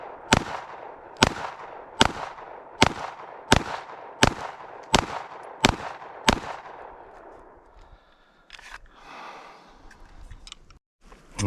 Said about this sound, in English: 10 shots to the center.